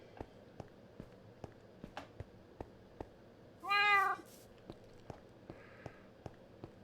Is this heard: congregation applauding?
no